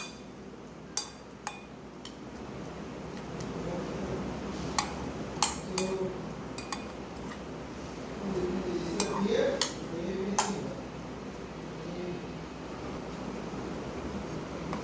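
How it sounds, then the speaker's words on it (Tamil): A potato chip mixture with chaat masala and coriander being mixed quickly in a bowl, with scattered clinks of a spoon against the dish and soft stirring underneath, close and fairly quiet. "இப்போ இது எல்லாத்தையும் நல்லா ஒரு குயிக் மிக்ஸ் பண்ணிக்கலாம்"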